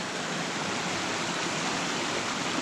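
A river rushing between cliffs, where a single stream splits in two, gives a steady, dense broadband roar of flowing water. It sounds close and continuous for the whole stretch, with no voices.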